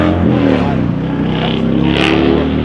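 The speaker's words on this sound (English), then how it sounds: "Oh no, that was the dude that burned rubber." A car accelerates hard outside, burning rubber, its engine roar loud and continuous with a steady low drone and harmonics throughout, brief higher hiss or squeal near the end.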